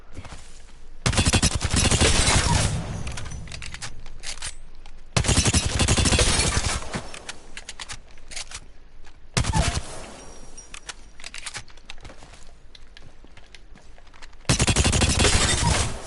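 Gunfire in the Apex Legends video game comes in several loud bursts of rapid automatic shots separated by quieter gaps, each volley lasting a second or two.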